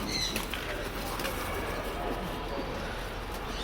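Pigeons of a lively breed coo softly in a home loft, with faint wingbeats amid steady background noise and no clear voices.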